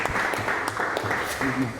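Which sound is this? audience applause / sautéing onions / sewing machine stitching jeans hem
audience applause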